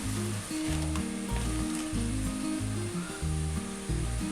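A banana leaf wilts over a gas stove flame, giving a steady, close hiss and sizzle that runs through the whole stretch above a low, shifting tonal hum.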